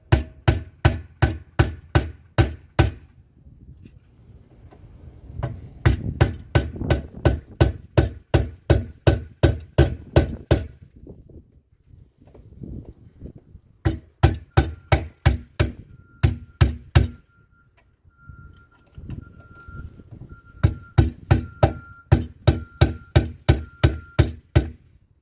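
Sharp metal-on-metal hammer blows drive a flathead screwdriver to peel out differential bushings from a BMW E46 subframe, in loud rapid bursts of about ten strikes each separated by short pauses, close by with no talk.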